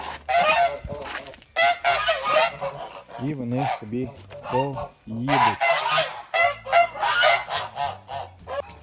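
Loud, repeated honking of several Kholmogory geese crowded close together, raucous and overlapping, with a person speaking briefly among the calls.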